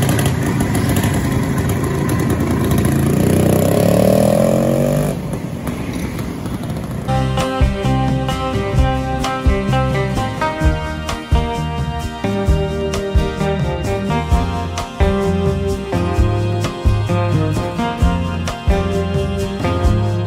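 A vintage motorcycle engine, a Puch 175cc or Jawa 250cc, rumbles and revs loudly for several seconds, then gives way to music with a steady, punchy beat.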